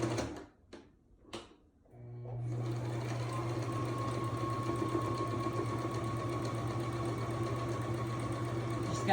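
A sewing machine stitching a baby blanket runs in a steady, close, continuous mechanical whir after a few brief handling knocks, with no talking.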